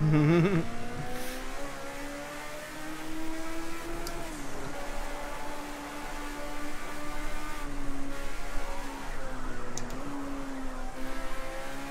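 A race car in Project Cars 2 at Watkins Glen drones along with a steady engine note and rising turbo whine, with brief tire squeal near the start.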